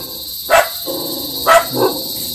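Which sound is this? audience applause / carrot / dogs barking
dogs barking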